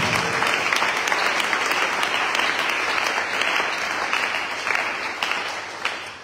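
Steady applause from a church congregation during a French-language sermon, dense and sustained throughout before easing slightly near the end.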